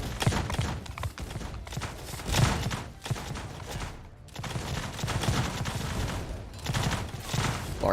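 Repeated gunfire from shooters during a battle in Mount & Blade Bannerlord with the Old Realms mod, dense irregular volleys of shots and clattering under battle noise, continuing throughout with brief lulls.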